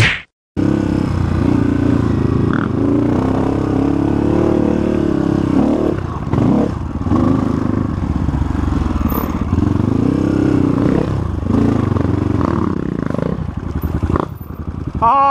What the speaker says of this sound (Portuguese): Não, tá patinando a embreagem, não.